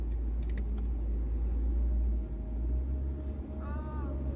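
A car rolls forward a couple of meters, its steady low engine rumble and road noise continuous and close throughout, with a faint voice at the end.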